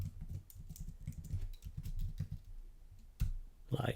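Rapid keyboard clatter of code being typed on a computer keyboard, a steady run of close, dense key clicks with a brief pause and a louder burst near the end.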